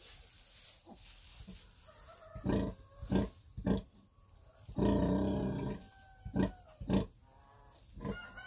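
Piglets squeal and grunt in short bursts while nursing on a mother pig in a cold homestead barn, with one longer noisy stretch of squealing in the middle; the sounds are close and irregular.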